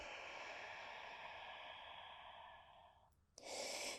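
A long, slow, steady exhale of breath during a gentle yoga curl-and-round pose, close and soft and lasting about three seconds. After a brief pause a sharper, louder breath follows.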